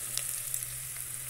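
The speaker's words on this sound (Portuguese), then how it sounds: "eu tô fritando o alho" Garlic and onion fry in a pan for pasta, giving a soft, steady sizzle with faint crackles and stirring scrapes, fairly quiet and close, with no voices.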